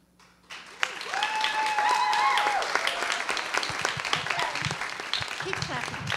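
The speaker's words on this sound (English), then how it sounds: "Keep clapping." A group bursts into sustained applause and clapping, with some tonal whistling and excited voices mixed in early on. The clapping stays loud and even throughout.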